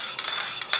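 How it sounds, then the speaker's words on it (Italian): Oil and water being whisked together in a cup for a vegan water-based ring cake batter, a quick light scraping and swishing with a few brighter clinks of utensil against the cup, close and steady. "Emulsioniamo ben bene l'olio con l'acqua"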